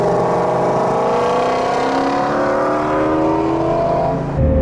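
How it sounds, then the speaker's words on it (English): 2017 Ford Shelby GT350 Mustang engine gurgling on a downshift, a loud, steady rumbling drone with revs sweeping up and down, heard close from inside the car. "this thing just gurgles when you downshift"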